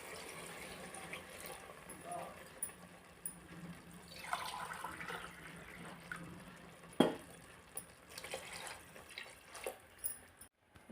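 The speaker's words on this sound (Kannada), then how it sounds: "ಅದಕ್ಕೆ 3 ಗ್ಲಾಸ್ ನೀರು ಸೇರಿಸ್ತಾ ಇದ್ದೀನಿ." Water splashes and trickles as three glasses of it are poured into a pot of rice for a soya bean vegetable pulao, a soft, irregular pouring sound close by with faint background noise.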